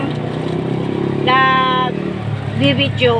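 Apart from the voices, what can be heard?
highway traffic with cars and motorcycles passing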